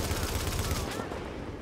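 A sniper rifle shot in The Division during the Grand Central Terminal mission, heard amid dense, continuous gunfire that fills the clip loudly, with rapid bursts tapering toward the end.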